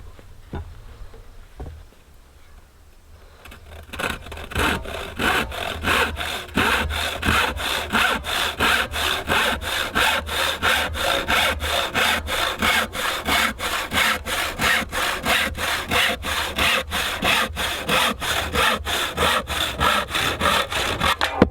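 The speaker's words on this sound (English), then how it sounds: "I'm still using hand tools" A hand saw cuts through wood with steady back-and-forth strokes after a few quiet seconds, each stroke crisp and close, continuing at an even, brisk rhythm with no talking.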